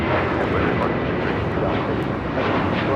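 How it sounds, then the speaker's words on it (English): An Alaska Airlines Boeing 737-900ER takes off from LAX, its engines producing a loud, continuous broadband roar that holds steady throughout. "That was Alaska Airlines 1398 taking off to Mazatlan on a 737-900ER"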